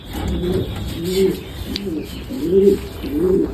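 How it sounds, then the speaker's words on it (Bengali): A pair of pet pigeons coo near the microphone in repeated soft, throaty phrases, with a faint voice in the background. "আমার একজোড়া সুন্দর কবুতর"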